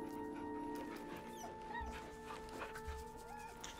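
A dog whimpers softly in Baldur's Gate 3, with thin whines and small yips over steady game ambience and a low music bed.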